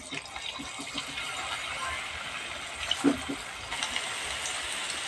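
Raw potato snacks sizzle in hot oil, a steady, fairly loud bubbling hiss with small crackles as the pieces go in one at a time.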